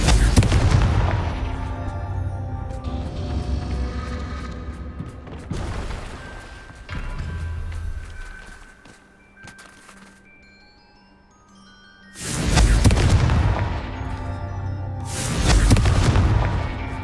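Booming spell explosions from the Confringo curse in a Hogwarts video game, several loud bursts near the start, around 6 seconds and twice more after 12 seconds, over a music-like backdrop.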